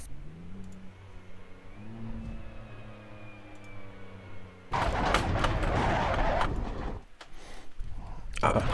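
Honda NSX engine in a racing video game, droning and shifting pitch through the gears as it accelerates, then giving way to a louder, rougher burst of noise, with talking over it.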